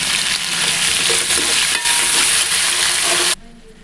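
Tomatoes and ginger garlic paste fry in a pan for a spicy korrameenu fish curry, giving a loud, steady sizzle with stirring scrapes that stops abruptly near the end.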